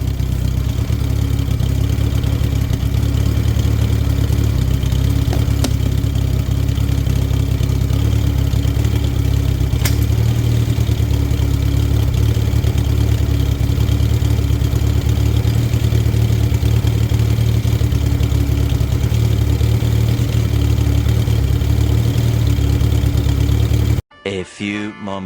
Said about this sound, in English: literally going to just chill and let it idle for a couple of minutes in hope that the revs pick up or drop off